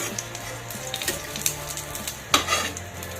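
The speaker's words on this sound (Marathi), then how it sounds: "आता हा पाव पण आपण याच्यातच गरम करून घ्यायचा आहे" Garlic sizzles steadily in hot oil while pav bread warms in the same pan for Mumbai-style vada pav, with scattered stirring clinks and one sharp scrape near the end.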